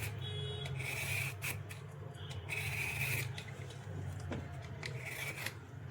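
Skin being scraped off raw red carrots with a peeler, a steady rasping rubbing in repeated strokes close by, over a low constant background hum, no talk.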